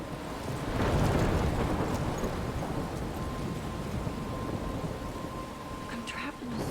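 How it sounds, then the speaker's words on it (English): Heavy storm with rain and thunder in Life is Strange, near a lighthouse: a dense, continuous roar of wind-driven rain with low rumbling, loud and steady throughout. "I'm trapped in a storm."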